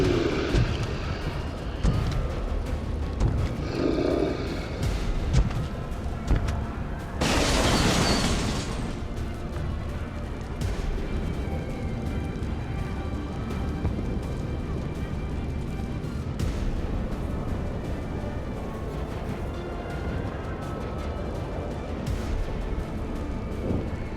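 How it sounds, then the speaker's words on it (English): Heavy combat in XCOM 2: continuous gunfire and rumbling explosions fill the scene, with a loud broadband blast burst near the middle, alongside intermittent voices. "Taking heavy fire!"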